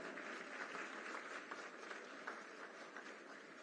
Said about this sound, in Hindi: तालियां जोरदार हो।